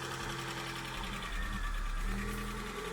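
A petrol engine in an abandoned Austin Ambassador project car runs steadily with a close, busy mechanical chatter and slightly tappety valve ticking throughout, with no voices.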